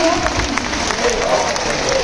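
An audience at a spiritual gathering rises to honour Brahmarshi Patriji and claps loudly, a dense, sustained wash of applause that fills the whole stretch without a break.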